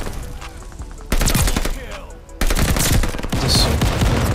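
STG44 assault rifle fire in Call of Duty Vanguard, with loud sustained automatic bursts near at hand, a brief lull in the middle and then another long burst, mixed with game effects.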